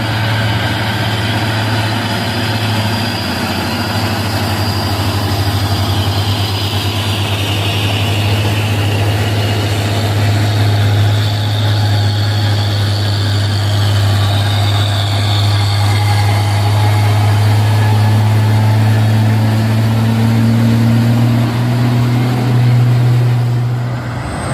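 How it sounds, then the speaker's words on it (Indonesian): Heavily loaded trucks, including an Isuzu, labor up the steep Bukit Kodok climb in Indonesia, a loud, sustained low diesel drone that stays near and steady, shifting slightly in pitch toward the end. "Ramai sekali truk-truk bermuatan berat menanjak di tanjakan Bukit Kodok ini"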